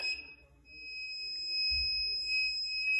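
Electronic timer on a sublimation heat press set to 400 degrees for 60 seconds, sounding a steady high-pitched sustained beep tone that runs through the whole stretch over a low background rumble.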